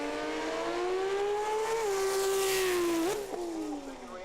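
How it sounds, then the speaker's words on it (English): A Datsun 1200 Ute drag car makes a modified 10.5 class run at Brisbane, its engine a loud, sustained high-revving roar that climbs steadily, dips briefly near the end as gears change, then pulls on and fades slightly. "Mitch Roseland's Datsun 1200 Ute, now the animal, up against Rod Anderson's car."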